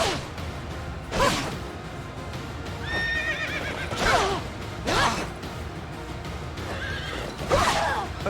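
Horses in the video game Fire Emblem Three Houses neigh and whinny repeatedly amid hoof clops and swooshing battle effects, with loud bursts recurring every second or so over a steady game backdrop.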